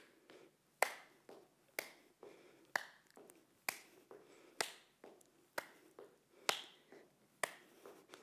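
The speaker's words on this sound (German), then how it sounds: "Und wir klatschen unter den Beinen durch." Children's dance exercise with repeated claps under raised legs: about ten sharp, evenly spaced hand claps roughly once per second, close and distinct, with no talking.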